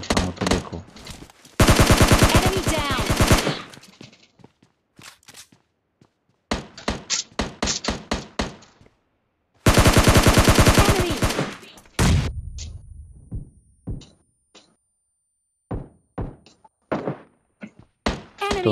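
AKM and other guns firing in the video game PUBG Mobile Lite: loud bursts of rapid automatic fire alternating with single sharp shots and short silent gaps, close and punchy.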